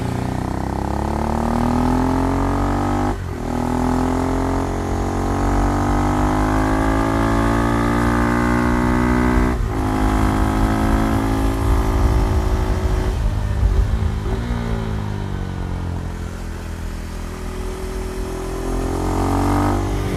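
A KTM Duke motorcycle running on fresh Pirelli Diablo Rosso 3 tyres, its engine droning steadily and loud throughout with rising and falling revs and a few brief gear-shift dips, no talk over it.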